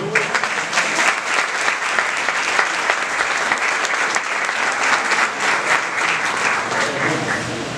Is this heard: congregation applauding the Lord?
yes